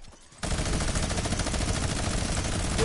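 A minigun fires in a video game as a dense, loud, continuous roar of rapid shots, starting abruptly after a short quiet moment and sustained without pause to the end.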